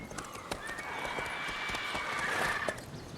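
Hooves of Roach, a horse in The Witcher 3, clop in a quick galloping rhythm, close and steady, with a drawn-out tonal squeal over the hoofbeats.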